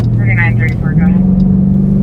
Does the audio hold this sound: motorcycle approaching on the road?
yes